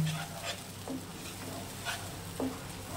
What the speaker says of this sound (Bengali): একটু মশলাটা একটু কষিয়ে নেব